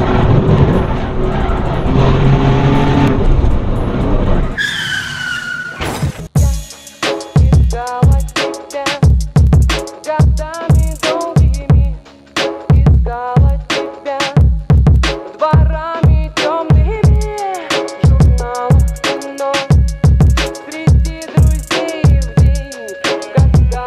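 An Alfa Romeo Giulia Quadrifoglio engine revs hard and loud, a long series of sharp rising and falling blips after an opening stretch of steadier idle, heard alone without talk.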